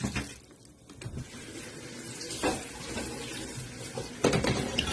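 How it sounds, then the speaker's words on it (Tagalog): Water pours into a cooking pot of pancit miki with a splashing, running-tap texture, close and moderately loud, with a few clinks of pot or utensils and no talking. "Pagkatapos, lagyan na natin ito ng tubig."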